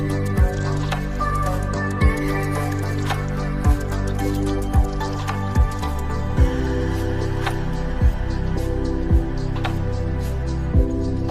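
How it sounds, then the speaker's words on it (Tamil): Palmyra tubers being rinsed as water is poured over them, with steady liquid pouring and regular soft splashing drips about once a second, close and fairly loud, with no speech. "அந்த கிழங்கு ஒரு டைம் நல்லா தண்ணி ஊற்றி வாஷ் பண்ணிக்கலாம்"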